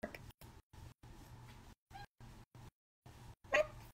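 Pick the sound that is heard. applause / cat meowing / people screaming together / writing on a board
cat meowing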